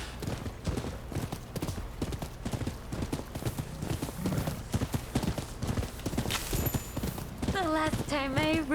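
Horse galloping in the video game Rise of the Ronin, rapid rhythmic hoofbeats pounding close and steady, with character dialogue spoken over them and a voice rising at the end.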